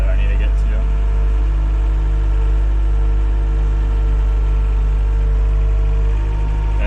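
A steady, loud truck engine idles close by with a deep low rumble and constant hum; a brief knock sounds near the start.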